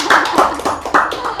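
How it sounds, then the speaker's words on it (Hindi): An audience claps after a shayari recital, a short burst of loud, close hand claps in irregular bunches, quickly thinning out. "बजा सकते हो तालियां?"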